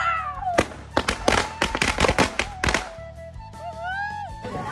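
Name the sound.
bidi bomb firecracker exploding during Diwali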